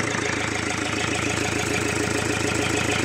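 A car's radiator cooling fan whirs steadily while the engine idles with an even, rhythmic low throb, close and constant for the whole stretch with no talking.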